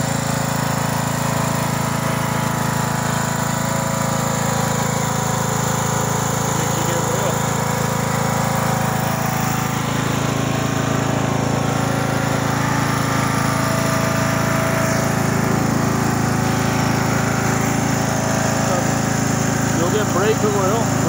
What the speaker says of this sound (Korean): 또 잔디 깎는 기계로 깎을 수 있을지 모르겠네요.